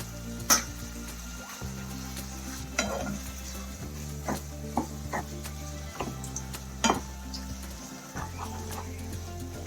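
Spiced mutton curry being stirred in a pot, a spoon scraping and clinking against the metal in irregular strokes over a steady background hiss of cooking, close and moderately loud, with no voices.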